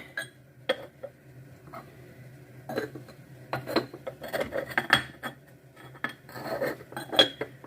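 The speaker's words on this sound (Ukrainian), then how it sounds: "Накриваємо кришечками." Lids set onto clay pots of potatoes headed for the oven, a series of close ceramic clinks and knocks with light scraping, separated by brief pauses and gathering into a busier clatter toward the end.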